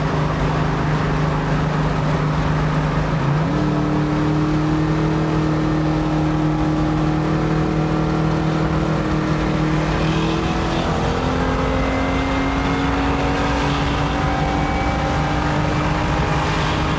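1974 Chevy Camaro V8 with a Holley carburetor that needs tuning, revving loudly up close: a steady rumbling idle that steps up to a higher, sustained pitch, then eases back down.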